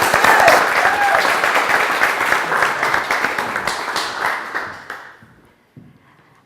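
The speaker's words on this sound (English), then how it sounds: "So let's give a massive round of applause and a warm welcome to Joe." An audience applauds to welcome a speaker onto a training stage, the clapping starting full and loud, then thinning and fading out over several seconds until only a few last claps remain.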